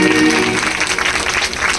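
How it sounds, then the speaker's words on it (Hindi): Audience applause, a dense burst of clapping heard close and steady for a couple of seconds. "जोरदार तालियां बजा के सम्मान कर दो"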